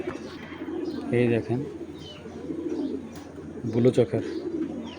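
Blue junky pigeons, a pair, coo in low rolling bursts near the microphone, with someone talking over and between the calls.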